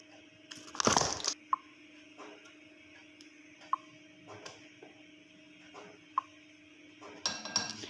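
A spoon adds custard powder to milk in a dish, with sparse light clinks and taps of metal on the dish, a louder rustling scrape at the start and end, quiet and close.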